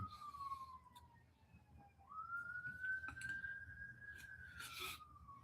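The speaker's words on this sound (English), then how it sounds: "you hear the ambulance in the background" A wailing siren sweeps up and down in the distance, faint and steady, with low background rumble and a few scattered clicks.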